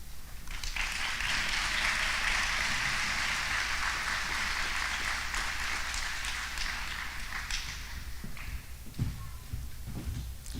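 A seated audience applauds nurses at a university nurse pinning ceremony, a dense, steady wash of many hands clapping that holds for several seconds and thins slightly toward the end.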